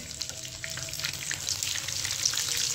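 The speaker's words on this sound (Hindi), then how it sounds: "मैंने इन पीसेस पे एग लगा के इसे ऑयल में रख दिया है।" Egg-coated chicken pieces frying in hot oil, a close, steady crackling sizzle with small popping bursts throughout and no voices.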